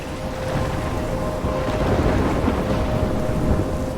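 A thunderstorm rolls in Life is Strange, with heavy rain pouring steadily and deep thunder rumbling underneath, loud and continuous with a faint tonal hum running through the whole stretch.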